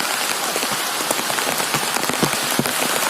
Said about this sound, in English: It's beautiful rain, water is flowing all the way down